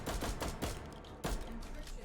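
Repeated booming shots from a KS-23 shotgun loaded with flashbang rounds in a competitive shooter match, several blasts about a second apart, loud and close over game ambience.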